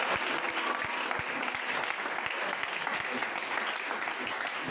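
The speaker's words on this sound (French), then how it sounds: "D'accord, acclamez pour le Seigneur." A church congregation applauding for the Lord at a service, steady clapping from many hands filling the room, close and continuous with no talk.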